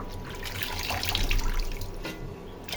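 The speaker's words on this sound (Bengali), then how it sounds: "এর জন্য কাটার আগেই ধুয়ে নিচ্ছি।" Tap water running steadily into a sink while leafy greens are rinsed before cutting, a close, continuous splash and trickle with small bursts as the leaves are moved.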